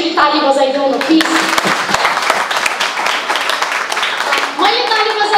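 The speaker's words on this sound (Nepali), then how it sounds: "जसले भोट दिनुभयो आफ्नै लागि एक्चुली ताली बजाइदिउँ न प्लिज" A hall audience at a Vijaya Dashami interaction program breaks into a burst of clapping lasting a few seconds, with a voice talking just before it starts and again as it fades.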